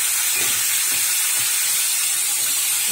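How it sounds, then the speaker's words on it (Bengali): Eggplant slices frying in hot oil in a wok, giving a steady, close, bright sizzling hiss that runs unbroken for the whole stretch with no talk over it. "কড়াতে তেল দিয়েছি, তেলটা গরম হয়ে গেছে। এই যে বেগুন তুলে দিলাম।"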